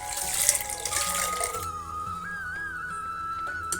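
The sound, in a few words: pouring water into cooker with lentils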